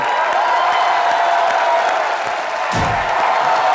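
Studio audience on the Indian TV comedy show Comedy Nights With Kapil applauds loudly in a dense, continuous wash of clapping and cheering, with a brief louder swell near the end.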